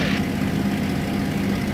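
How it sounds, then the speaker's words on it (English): Spitfire airplane in flight, its propeller engine giving a steady, loud drone with a low hum throughout, continuous and close, with no talking over it. "It's a lovely airplane to fly."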